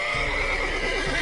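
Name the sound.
horse neighing in video game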